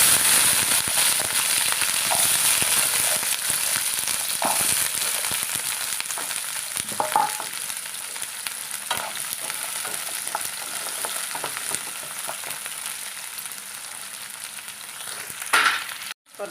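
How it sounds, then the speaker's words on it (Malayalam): Onions frying in coconut oil with fenugreek seeds for an onion sambar, a loud, close, steady sizzle with crackling spatters and occasional stirring scrapes, easing slightly before a final clatter. "കുറച്ച് വെളിച്ചെണ്ണ ഒഴിച്ച് കൊടുക്കാം. ഉള്ളി ചേർത്ത് കൊടുക്കാം."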